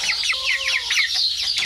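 Chickens cluck and chatter continuously nearby, several birds overlapping in short, busy bursts with no talking.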